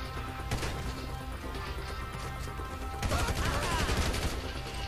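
Gunfire bursts in GTA V, rapid cracking shots in two clusters, loud and dense, with no talk over them.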